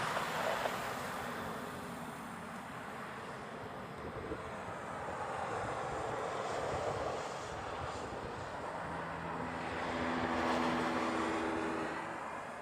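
A Delta airliner arriving from Salt Lake City at Honolulu, its engines a faint, distant roar that builds and swells toward the end over low background wind and hum.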